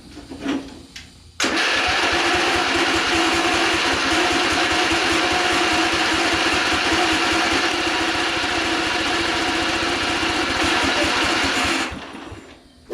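A vintage LongLife lawn tractor engine, about 40 years old and pulled from a barn, catches after a brief start attempt and runs steadily and loud for roughly ten seconds with a fast chugging rhythm, then cuts out.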